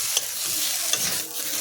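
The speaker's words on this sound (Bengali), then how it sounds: "এখানে আমি নাড়াচাড়া করে ভেজে নিচ্ছি।" Spices fry in a pan under a bright, constant hiss of sizzling oil, with a couple of sharp scrapes from a stirring utensil, close by.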